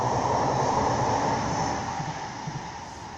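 A Metrolink tram rolls past beside a canal in Manchester, a steady broadband rumble and hiss with rhythmic low wheel thumps, gradually fading.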